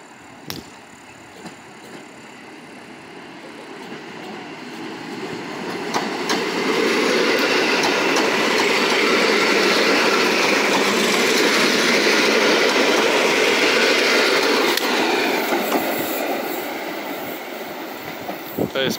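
A Polregio EN57 regional electric train passes through Piwniczna station. The rumble swells loudly from a quieter start, holds with rattling wheels and squeal for several seconds, then fades.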